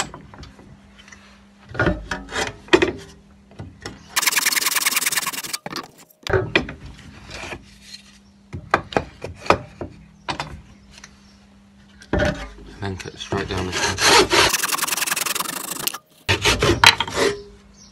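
A hand saw cuts wood held in a vise for a tee halving joint, in repeated bursts of rasping strokes separated by pauses, close and loud.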